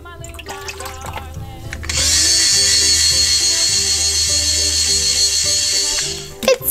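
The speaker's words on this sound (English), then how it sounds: "It's still blending." A small toy mixer whirs as it blends water, its motor kicking in with a bright buzzing drone after a short stretch of quieter clatter, running steadily for several seconds before stopping with a couple of clicks.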